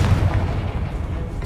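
A Confringo fire spell detonates in Hogwarts Legacy, a heavy, sustained booming blast with dense low rumble filling the whole moment, no voices over it.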